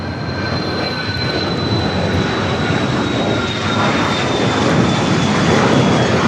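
An airliner lands at LAX on runway 25 left, its loud, steady engine roar swelling slightly with a thin whine on top, close and continuous with no talking.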